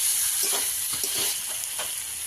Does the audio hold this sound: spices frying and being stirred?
yes